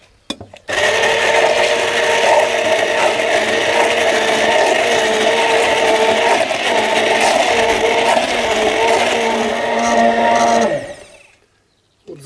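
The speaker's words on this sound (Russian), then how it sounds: "позволит нам измельчить наш нарезанный аир до состояния будущего порошка" An electric grinder pulverises chopped calamus root into powder, running as a loud, steady whirring buzz for about ten seconds before winding down and stopping.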